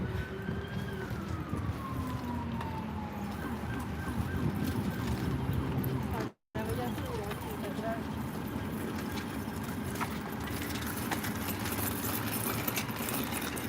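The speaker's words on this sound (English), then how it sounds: "Yeah, I do hear a lot of sirens." Sirens wail faintly in the distance across New York City near Roosevelt Island and the Upper East Side, under outdoor street noise and people talking.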